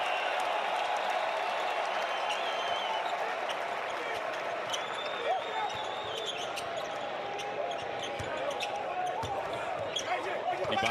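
A capacity crowd of over 18,000 roars steadily at a BYU versus Utah college basketball game, with sharp sneaker squeaks cutting through the loud, continuous cheering.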